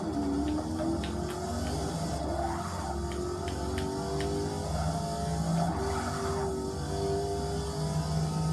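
A Corvette racing in Forza Motorsport 6, engine droning steadily while tyres squeal and skid in long wavering tones through corners, heard without talk.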